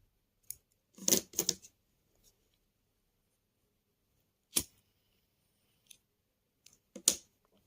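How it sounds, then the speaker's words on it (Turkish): Scissors snip through crochet thread in a series of sharp, close cuts, a quick cluster near the start followed by a few isolated snips spread across a quiet background. "Hemen şu arka kısmındaki ipimi kesmek istiyorum."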